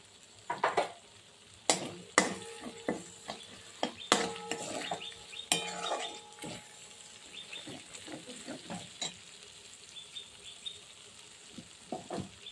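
Thick prawn muitha curry with potatoes, salt, sugar and green chillies stirred in a pan: repeated metal spoon scrapes and knocks over a low sizzle, close and irregular.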